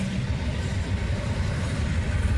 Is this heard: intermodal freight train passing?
yes